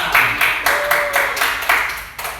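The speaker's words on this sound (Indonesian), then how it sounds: "Tepuk tangan." A classroom of pupils claps hands in a rhythmic pattern, about nine even beats in a row, fairly loud and close, with no talk over it.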